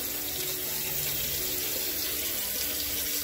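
Water runs steadily from a tap, rinsing soapy horse grooming tools: a constant close splashing rush with no talk.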